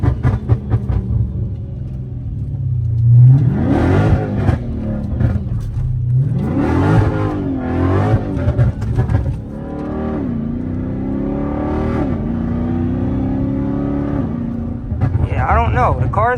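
A flame-tuned Scat Pack accelerates through a U-turn in the rain, engine rumbling and revving in rising sweeps with a sustained drone between them, while someone talks over it.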